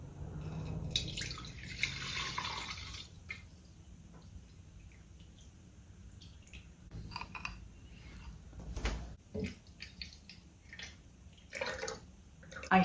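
Water running from a tap into a pitcher for about eight cups, a soft uneven splashing and trickling that comes and goes, fairly faint, with scattered small clinks and no talk.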